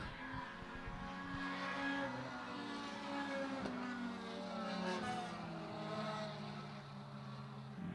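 A race car's engine snarls loud and continuous through corner entry on a racing circuit, its revs wavering as the car gets loose, with no talk over it.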